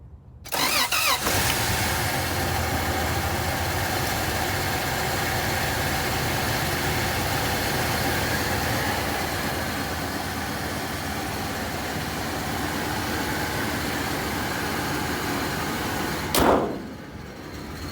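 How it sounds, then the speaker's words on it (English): An 80 Series Toyota Land Cruiser engine cranks and catches, then settles into a steady, rumbling idle that runs on evenly, ending with a brief rev near the close. "All right, about to turn on the engine."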